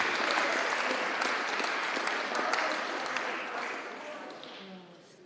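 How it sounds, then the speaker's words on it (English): Enthusiastic applause from a crowd at a high school National Signing Day ceremony, loud and dense at first before gradually fading out over several seconds. "One more big round of applause for these 4 outstanding young men."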